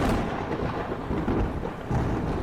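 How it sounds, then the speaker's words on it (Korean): Heavy rain pours down steadily as a sound effect in a horror radio drama, a dense, loud, unbroken roar with no voices over it. "예고에도 없던 굵은 빗방울이 떨어지기 시작했다"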